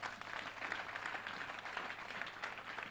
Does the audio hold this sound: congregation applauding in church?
yes